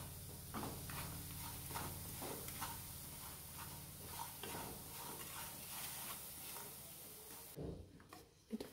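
Jaggery melting in a pan, stirred with repeated scraping strokes over a soft continuous sizzle, close and fairly quiet, ending in a few louder clatters.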